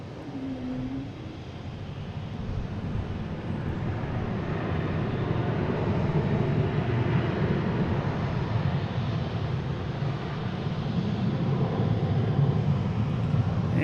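A JetBlue Airbus A220 from Cancun rumbles steadily at Boston Logan, a broad, continuous engine roar that builds slightly and holds for the whole stretch with no talking over it.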